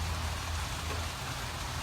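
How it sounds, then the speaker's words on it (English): Steady rain falls outside a workshop shed, a dense, even hiss with a low rumble underneath, continuous and moderately close with no voices. "rainy outside, and we're not going to be doing too much out on the table at this point"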